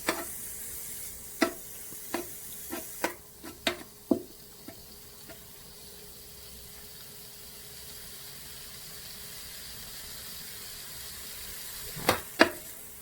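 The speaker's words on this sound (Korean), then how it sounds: "불을 조금 이제 센 불에서 고기를 볶아주세요." Meat stir-fried over high heat for kimchi rice balls, with a run of sharp utensil clacks and scrapes against the pan, then a long stretch of quiet sizzle before a final burst of stirring, all fairly faint.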